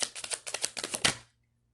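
A deck of goddess guidance oracle cards is shuffled close by, a quick series of crisp riffling flicks in an even rhythm that stops abruptly, leaving silence.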